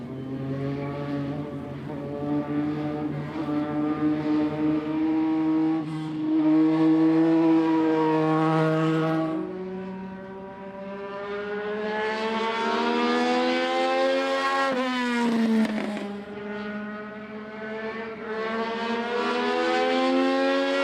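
Race cars at a track run in a steady, loud stream of high-pitched engine whine that rises and falls as the cars pass close by and pull away, with no voices over it.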